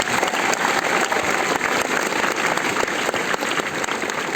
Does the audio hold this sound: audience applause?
yes